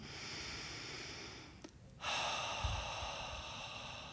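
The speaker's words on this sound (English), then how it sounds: "take a nice deep inhale through the nose. And on your exhale out through the mouth, we're letting that go" During a hatha yoga class, a deep breath is drawn in through the nose and released out through the mouth: a steady, airy, close-up inhale, a brief pause, then a long soft whooshing exhale, with no talking.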